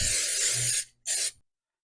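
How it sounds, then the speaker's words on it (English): Two short sprays of Pam cooking spray into a baking pan, a longer hiss then a brief second burst, close and sharp, followed by silence. "Generous spray of Pam."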